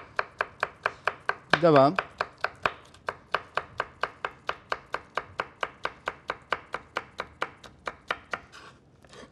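A knife chops ingredients for Turkish mengen soup on a cutting board with a steady run of about thirty quick, crisp strokes, close and loud, and a brief spoken word partway through.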